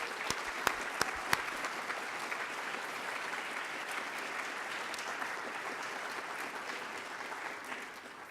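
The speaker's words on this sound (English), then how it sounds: "let's give applause to everybody involved in this effort." Steady applause from an audience at a 2017 college awards ceremony for outstanding colleagues, a few sharp claps standing out at the start before a dense, even wash of clapping fills the room and eases slightly near the end.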